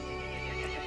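A horse neighs in the video game Resident Evil Village, a short sustained whinny with hoof clip-clop underneath, loud and close.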